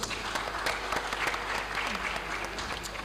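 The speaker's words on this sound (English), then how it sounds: "Round of applause as he joins us" Conference crowd at the Africa Social Impact Summit claps as a speaker joins the stage, a thick, even burst of applause with a low hum beneath it, sustained throughout.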